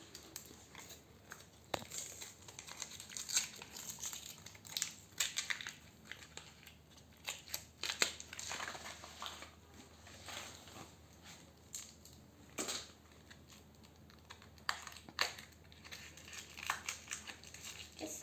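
Plastic packaging on a pink toy box being opened, with close, quiet crinkling and crackling that comes in irregular bursts and rustles for the whole stretch, with no one speaking.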